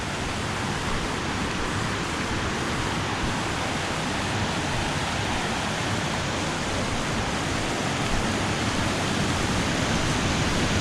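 Waterfall near Guadalupe, Colombia, tumbling over rock formations, a steady, dense rushing roar that holds close and loud without a break and has no voices over it.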